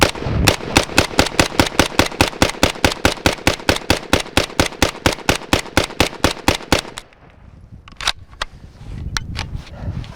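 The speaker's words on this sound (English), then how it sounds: "So I guess I'm gonna shoot this thing from the hip and just see how well this thing shoots." A PTR 9C pistol fired from the hip outdoors, with a long steady string of about thirty loud, evenly spaced shots, followed by a quieter stretch with a few scattered later reports and some low rumble.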